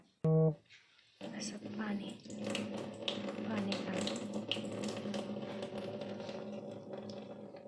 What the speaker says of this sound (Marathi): आता हे पाणी वतून सुकायला ठेवूया.